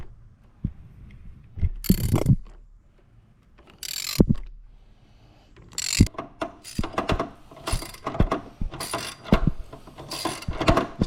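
Ratchet wrench clicking in bursts while loosening a part during an oil change on a 2016 Fiat Abarth; quick pawl ticks and metallic mechanism sounds come in several runs, close and clear with no talk.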